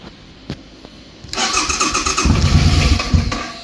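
A cheap rescued Harley motorcycle engine is started after a few faint clicks, catching abruptly and settling into a loud, uneven, lumpy run with a rough clattering idle close by.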